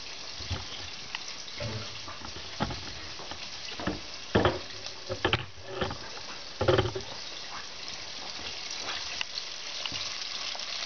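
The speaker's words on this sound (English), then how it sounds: "So there's the fried chicken frying." Fried chicken frying in hot oil, a steady close sizzle with scattered louder pops and crackles throughout, no voices over it.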